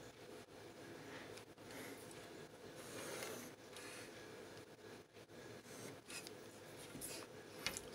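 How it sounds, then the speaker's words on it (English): Faint, soft scratching of a pencil drawing a reference line on paper, a few quiet strokes over a low steady room hum. "I'm drawing a reference line."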